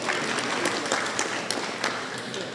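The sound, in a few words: round of applause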